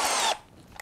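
A power drill at low speed drives a sheet metal shear attachment, giving a brief, loud, high whir that cuts off abruptly, followed by quiet and a small click.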